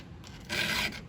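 A hand file rasps over a Husqvarna 357xp chainsaw chain, one short close scraping stroke rising in intensity midway, with no talking.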